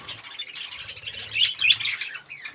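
Budgerigars in a colony chirp and twitter continuously in a busy, overlapping chatter that swells slightly toward the middle, with no voices present.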